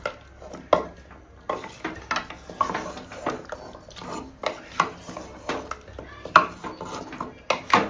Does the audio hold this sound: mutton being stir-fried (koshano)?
yes